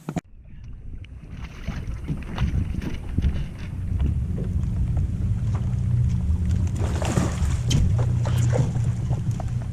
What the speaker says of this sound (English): I got the back trolling motor on. It's making a mad dash for the dock.